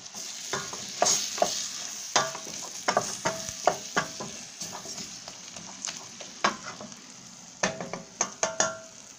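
Onions frying with chicken in a pan with spices, stirred repeatedly: irregular scraping and clatter strokes over a steady close sizzle, with no talking.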